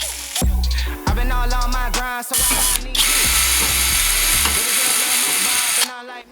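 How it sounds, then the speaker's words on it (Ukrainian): A CROWN cordless drill-driver drills with a 1 mm bit, its motor whirring up loudly in several short bursts that rise and fall in pitch, with brief pauses and a ratcheting mechanical rattle between runs. "без проблем сверлиться сверлом 1 мм"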